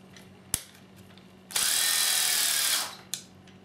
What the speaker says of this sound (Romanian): Aceasta este mașina de găurit și înșurubat profesională de la Deval